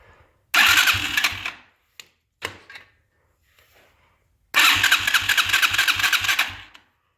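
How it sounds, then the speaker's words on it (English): A Chinese four-wheeler ATV engine cranks and catches twice, each start giving a loud, close run of roughly a second, then later a sustained rumble of a few seconds, separated by brief clicks and near silence. "Let me see if I can touch this again and get her fired up again."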